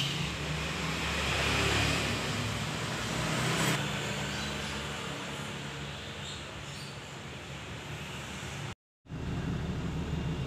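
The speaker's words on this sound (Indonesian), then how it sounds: "Dan ini mesinnya sudah kita hidupkan ya teman-teman." A 1995 Toyota Land Cruiser VX 4x4 with a manual diesel engine idles close by, a steady low rumble that holds evenly throughout, broken only by a brief dropout near the end.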